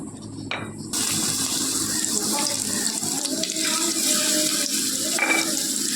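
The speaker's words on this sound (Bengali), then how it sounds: "তেলটা গরম হয়ে গেছে, এবার আমি এটাকে একটা একটা করে ফ্রাই করে নেব।" Chicken pakora sizzles and crackles in hot oil, a dense, steady, close hiss that starts abruptly after a quiet moment and continues without pause, with no talking.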